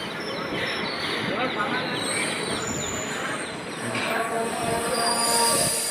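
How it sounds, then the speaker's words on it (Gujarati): Train pulling away from a station, with steady wheel rumble and faint rail squeal throughout, close and continuous, swelling slightly toward the end, with faint voices in the background. "ટ્રેન અમારી ઉપડી પણ ગઈ છે, ચાલુ થઈ ગઈ છે."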